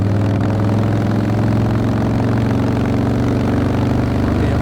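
A loud, deep Harley-Davidson V-twin motorcycle engine with a very loud exhaust idles with a rough, uneven thumping rumble, steady and close for the whole stretch, with no voices.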